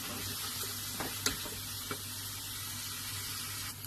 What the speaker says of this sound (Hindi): ये देखिए थोड़ा सौते हो गया है, जिंजर एंड गार्लिक, लहसुन अदरक का पेस्ट